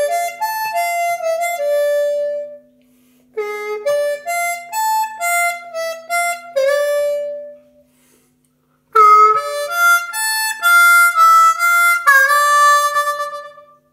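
Harmonica played in third position runs through a short bluesy phrase of separate held and bent notes, close and clear in two bursts split by brief silences, with no talking.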